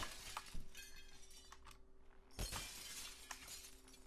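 Glass shattering in the Happy Wheels browser game: a couple of bright crashing breaks with tinkling shards scatter over a steady low game hum, one hit near the start and a bigger burst midway.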